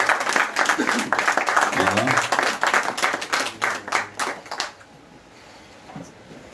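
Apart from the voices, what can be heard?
applause for the women standing up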